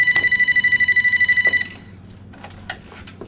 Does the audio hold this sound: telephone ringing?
yes